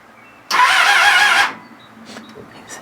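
A Kawasaki ZXR250 motorcycle engine cranks and catches, giving one loud burst of about a second that then drops to a quieter, uneven idle nearby.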